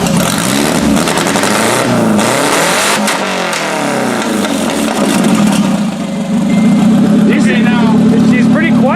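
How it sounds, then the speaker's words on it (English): A car engine with open headers revs hard and steadily at close range, a loud continuous roar that rises and settles, with a voice talking over part of it. "Just gonna hook up the fuel pump there. Give her a little rev."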